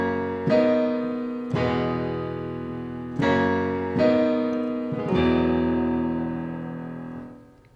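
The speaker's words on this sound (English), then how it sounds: "The acoustic piano sounds like this." A 7-foot Yamaha acoustic piano, recorded fairly dry with only a little reverb, plays five clear chords or struck notes at steady intervals. Each one rings out and decays, and the last fades away, with no voices.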